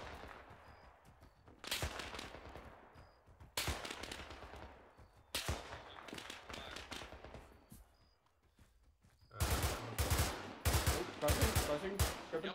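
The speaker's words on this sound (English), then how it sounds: "Actual gunfire, yep." Bursts of ArmA 3 video game gunfire crack out in separate volleys, each decaying into echo, ending with a rapid sustained barrage.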